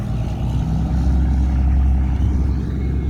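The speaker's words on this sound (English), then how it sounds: "Loud truck going by." A loud heavy truck rumbles past nearby on a downtown street, a deep engine roar swelling in the middle and easing slightly toward the end.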